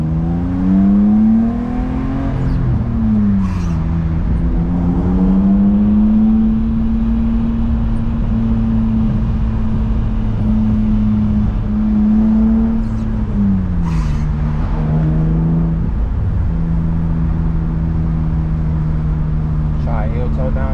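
A BMW E36 engine drones under steady driving, with revs dipping and blipping during a heel-toe downshift and settling again. Someone talks over the engine much of the time.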